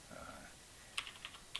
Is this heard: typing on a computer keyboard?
yes